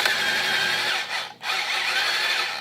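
A battery-powered toy chainsaw from a dollar store runs with a continuous buzzy motor whine, steady and close, with one short dip before it picks back up; no voices.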